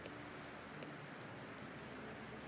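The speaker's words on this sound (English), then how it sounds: "Ooh, I love the rain sound." Steady rain hiss from the Thaumaturge video game, a soft continuous wash of falling rain with no talk, faint and even throughout.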